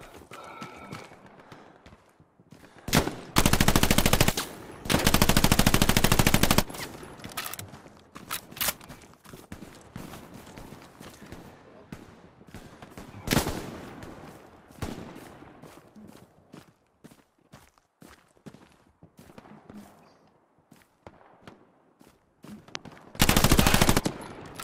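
Machine gun fire in the World War II shooter game Hell Let Loose, with long loud sustained bursts and scattered single shots and footsteps in between, close and intense with no talking.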